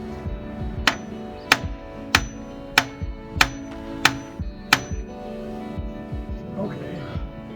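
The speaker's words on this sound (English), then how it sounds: "I guess I'll tap on it with a hammer." Repeated sharp metallic hammer taps on a broken car starter, about one per second, ringing briefly each time, with low rumbling background and faint talk toward the end.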